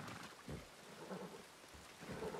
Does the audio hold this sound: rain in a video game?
yes